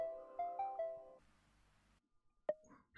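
A mobile phone rings with a short repeating melodic ringtone of three rising tones, fairly close, then cuts off and is followed by a quieter hiss and a single clear ping.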